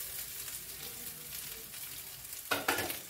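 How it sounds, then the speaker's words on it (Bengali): Rice for vegetable fried rice sizzles and is stirred in a hot pan at a steady close simmer, with a louder burst of frying and scraping near the end. "তো আজ আমি প্রথমে চালটাকে একটু ভেজে নেবো এটার মধ্যে ভালো করে"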